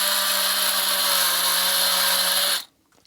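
Power tool whining steadily as it widens output holes in metal panels for a dual Atari 8-bit power supply, running loud and close for over two seconds before cutting off abruptly.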